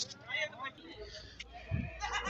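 Goats bleat at the busy Bhains Colony goat market, a short cry rising amid crowd noise while someone talks close by.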